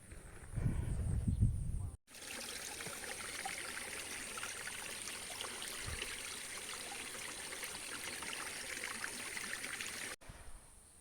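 A mountain river flows near Kelud volcano, a steady broadband rush of water that continues unbroken for most of the stretch, with a brief low thump and a quieter opening section.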